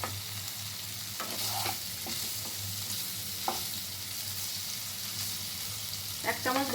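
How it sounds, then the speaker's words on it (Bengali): Paneer pieces sizzle gently in butter in a kadai, a soft steady frying hiss with occasional clicks of a spoon stirring, close but fairly quiet. "এক চামচ বাটার দিয়েছি, পনিরগুলো এতে আমি ভেজে তুলে নেব।"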